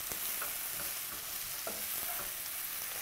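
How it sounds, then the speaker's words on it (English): A spoon scrapes and stirs curried zucchini in a pan, giving a few soft clicks and scrapes over a steady, faint frying sizzle. "I'm going to stir this a little bit"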